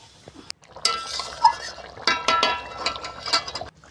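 Spoon clinks against a pan while fried pointed gourd is stirred into a yogurt curry, with light scraping and a few sharp metallic taps close up, no talking.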